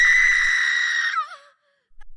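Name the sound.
woman screaming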